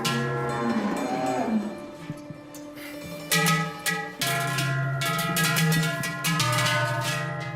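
Cattle at a village livestock show in Schwellbrunn, lowing loudly and close, while clanging cowbells on collars ring out repeatedly through the scene with a general outdoor crowd murmur.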